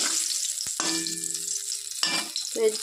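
Bay leaves and whole cumin seeds hit a little hot oil in a pan for a fish curry, making a soft close sizzle with a few clinks and stirring noises.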